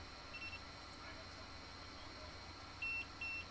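A battery-powered device with a bad cell gives two short, high-pitched electronic beeps close together near the end, over a steady low background hum.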